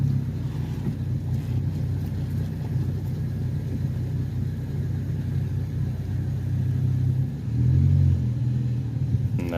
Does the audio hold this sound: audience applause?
no